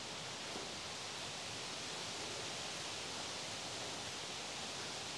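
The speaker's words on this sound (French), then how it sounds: "Le ruisseau est sorti de son lit." A steady, full roar of rushing water from a forest stream overflowing its banks after 14 cm of rain from Storm Debby, broad and unbroken, surging close by with no other sounds.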